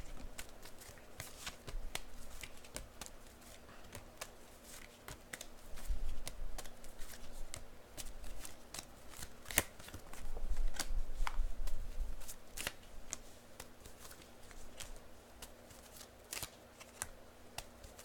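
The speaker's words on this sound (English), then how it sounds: "so I'm just going to start pulling cards for you" Tarot cards being shuffled for a reading, a long run of soft crisp riffling clicks and flicks at a close, quiet level with a faint steady hum underneath.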